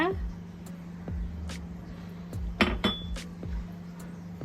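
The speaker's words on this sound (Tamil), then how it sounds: "இதை நல்லா கட்டி இல்லாமல் நம்ம மிக்ஸ் பண்ணி எடுத்துக்கலாம்" A metal spoon clinks and scrapes against a cup or bowl in several separate strokes, mixing cocoa powder with milk, close by, with a steady hum underneath.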